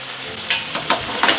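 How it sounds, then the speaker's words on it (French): Creamy spicy penne sauce in a pan, a short burst of sizzling and bubbling with a few louder stirring scrapes, close and alone. "tourne, retourne, et on fait mijoter environ 5 minutes"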